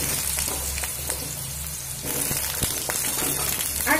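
Sliced potatoes fry in hot oil with a continuous crackling sizzle and scattered pops, plus low rumbling stirring knocks and an occasional clack of a utensil against the pan.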